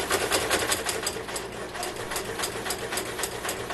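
A sewing machine runs steadily and fairly loud, stitching down the folded seam of a fabric mug rug, with a continuous whirring drone and a quick rhythmic needle pulse throughout.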